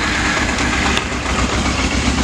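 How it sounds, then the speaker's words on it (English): A motorcycle fitted with a Yoshimura aftermarket exhaust runs close by with a steady, dense engine rumble throughout, loud and continuous with no talking. "Alright, so the bike starts up. It's got a Yoshimura aftermarket exhaust."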